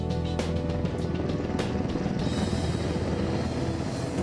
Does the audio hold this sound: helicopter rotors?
yes